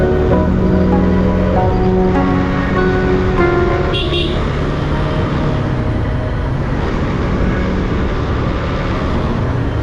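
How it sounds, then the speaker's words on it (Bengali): Traffic on a village road where auto-rickshaws, motorbikes and vans pass, heard as a steady loud rumble of engines and tyres with a brief passing whine partway through and no clear talking. "একবারে গ্রামের রাস্তা দু একটা অটো চলে দু একটা বাইক দু একটা ভ্যান"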